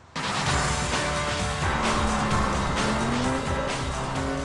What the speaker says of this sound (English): I love the sound of its Super Trick engine.